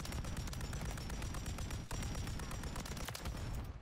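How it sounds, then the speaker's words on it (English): Rapid gunfire from a weapon in Modern Warfare III, dense continuous shots rattling on at even volume with only a brief pause near the middle. "The sound coming off this gun is unbearably sexy"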